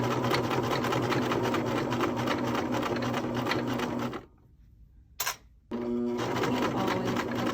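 A sewing machine stitches fabric in a fast, loud rattling run, stops abruptly for about a second and a half with a brief clack in the pause, then resumes stitching.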